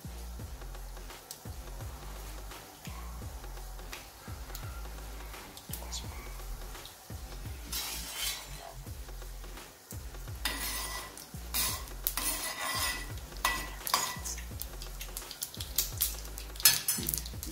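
Mustard seeds dropped into hot oil, a crackling sizzle with bursts of popping that grow louder and denser toward the end, accompanied by frequent clinks of a utensil on the pot.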